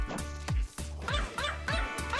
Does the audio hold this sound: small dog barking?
yes